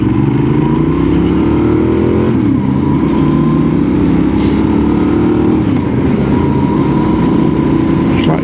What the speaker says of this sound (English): That parallel twin through that exhaust sounds nice.